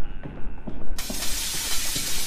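A monster smashes through glass in the horror game Hospital 666, with a loud, bright shattering crash that bursts in suddenly and trails into scattered tinkling debris over a continuous noisy bed.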